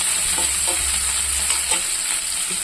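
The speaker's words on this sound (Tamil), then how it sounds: "போட்டு இதை வதக்கலாம்." Onion, green chili, dried chili and curry leaves frying in oil for semiya upma, a steady close sizzle with light stirring scrapes and no talking.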